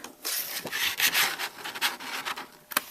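A blade scrapes steadily around black cardstock, cutting out a 2.5-inch circle for a gift-box sentiment. The rasp is close and continuous, with rougher bursts and a sharp stroke near the end.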